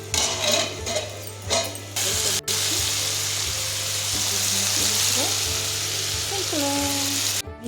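Cumin seeds fry in hot oil in a pot, giving a loud, steady sizzle with occasional stirring clatter, close up, under a constant low hum.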